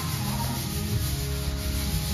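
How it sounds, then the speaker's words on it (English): Sanding is steady and continuous with a rough abrasive rub, heard at a moderate distance in a château under renovation, without talk. "He's sanding."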